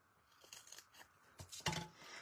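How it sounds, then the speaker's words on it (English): Scissors cutting a foam dimensional adhesive in half for a handmade bird card, a few faint, soft snips and a sharper clipped snap near the end, quiet and close. "Let me cut the dimensional in half."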